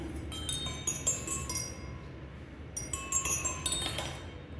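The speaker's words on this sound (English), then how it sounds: "So now I am going to move my spoon starting from the first glass." A metal spoon slides across and strikes a row of drinking glasses, giving two runs of bright ringing clinks, each a quick series of chimes that linger and fade, close and clear with no voices.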